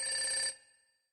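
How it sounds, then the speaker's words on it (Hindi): A telephone rings in a room with one short electronic trill that cuts off abruptly and fades, heard alone and fairly faint. "तभी रूम में फ़ोन बज उठा।"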